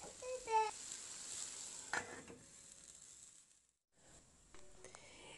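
Potatoes with hot pepper cook in a covered pan on the stove, giving a steady soft sizzle with a few sharp metallic clinks of the lid and utensils, then a brief quiet gap before the frying hiss resumes.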